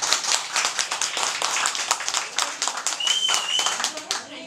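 Audience applause at a Yu Sang-rok fan club year-end gathering in 2009: steady, dense clapping from a crowd throughout, close and lively, with a brief high whistle-like tone partway through.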